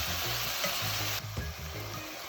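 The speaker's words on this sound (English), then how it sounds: "vegetable and herbs is sauteing" Celery, onion and herbs sauté in a pan with ketchup and barbecue sauce, a steady close sizzle under repeated stirring scrapes, with no voices.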